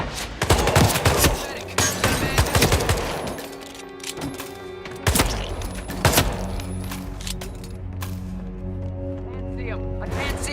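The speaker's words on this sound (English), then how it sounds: "We got gunshots." Repeated gunfire in the Hitman: World of Assassination video game, with sharp bursts of shots clustered early and again midway over a continuous game soundscape and low drone.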